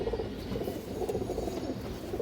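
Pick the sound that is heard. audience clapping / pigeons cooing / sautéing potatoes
pigeons cooing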